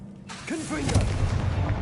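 A Confringo blasting spell goes off in Hogwarts Legacy, a sudden broadband burst followed by a low rumbling boom that lingers, with a short voiced call heard just as it starts.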